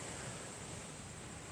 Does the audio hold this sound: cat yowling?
no